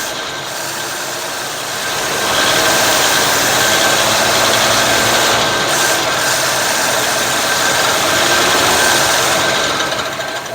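The engine of a 1957 Chevy barn find running, a steady loud mechanical whir and rattle that rises after a couple of seconds and holds, with no voices.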